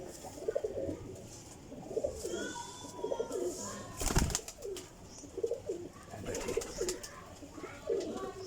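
Domestic pigeons cooing repeatedly in a loft or coop, soft rolling calls in an irregular rhythm with a brief clatter of movement partway through.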